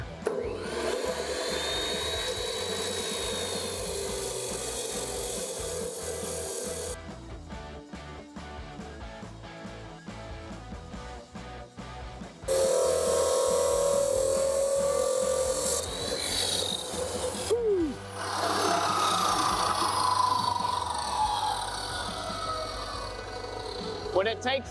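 Abrasive cutoff disc on a power tool grinding slowly through metal, a loud continuous rasping whine that pauses briefly midway and then resumes, running steadily for the whole stretch.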